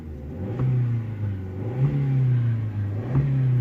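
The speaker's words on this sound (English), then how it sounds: "when I rev it" A Vauxhall Opel Corsa engine idles, then revs up a few times in quick bursts, each rise settling back to a steady low rumble.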